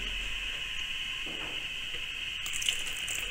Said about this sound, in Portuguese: Vamos despejar aqui para vocês